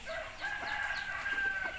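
A rooster crows among free-range young chickens on a Thai farm, a single drawn-out call close by and fairly clear, with faint clucking and farmyard background and no talk.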